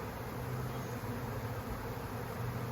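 A swarm of honey bees buzzes steadily and densely up close while being brushed and shaken into a hive box, a continuous droning hum with no voices.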